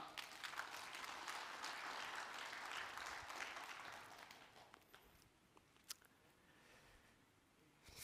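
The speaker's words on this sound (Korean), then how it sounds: "우리 부여군 공직자, 열심히 노력한 공직자들께 격려의 박수 한번 쳐주시기 바랍니다" A seated crowd at a Buyeo County public town-hall event gives sustained applause for the county's officials, a dense steady clapping that runs for about five seconds before thinning into scattered claps.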